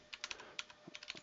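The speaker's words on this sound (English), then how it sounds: "my typing will get worse as the day goes by" Quick, light keystrokes tap on a computer keyboard in uneven bursts, a dozen or so soft clicks close by with brief pauses between them and no talking.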